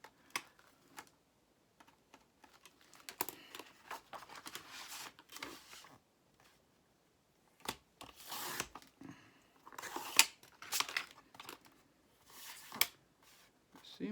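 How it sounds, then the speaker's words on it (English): Scissors snipping sheets of patterned craft paper from a paper pad, a series of short crisp cuts and rustles in bursts with pauses, close and fairly quiet. "I'm just gonna go through and cut my papers I want."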